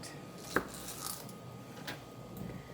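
A knife slicing mini Persian cucumbers lengthwise on a cutting board, one crisp chop followed by a few softer cuts, close and quiet with no talking.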